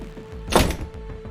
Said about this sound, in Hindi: तभी दरवाजा खुलता है और रविश अंदर आता है।